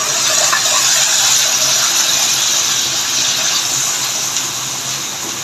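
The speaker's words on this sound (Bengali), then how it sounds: "ভেজে নেওয়া হয়ে গেছে, এখন আমি একটু জল দিয়ে দিব।" Water poured into a pan of fried chicken pieces while cooking a child-friendly chicken dish, giving a steady, loud gushing rush that fades slightly toward the end, with no talking.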